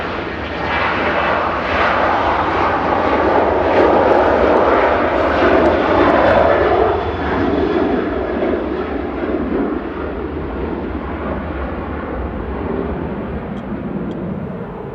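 A Ryanair Boeing 737-800 rolls for takeoff on runway 05 left at Manchester Airport. Its jet engines build to a loud, broad roar and then ease off slightly as the aircraft pulls away, with no voices over it.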